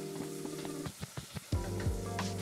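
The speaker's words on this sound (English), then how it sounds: "Drop the korokke in one by one." Kabocha pumpkin croquettes are dropped one at a time into hot oil, each landing with a soft splash followed by a steady, close bubbling sizzle.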